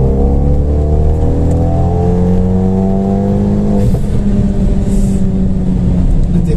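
Renault Megane RS engine revving hard, climbing toward the rev limiter with rising harmonic whine, loud and close, steady throughout with no talk over it.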